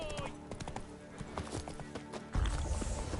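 Hooves of the horse Roach clip-clopping at a gallop in The Witcher 3, rapid rhythmic thuds with faint game effects and a brief voice, ending in a louder rumbling burst.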